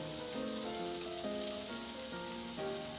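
Pork and cucumber stir-fry over high heat, a steady close sizzle throughout, partly under background music.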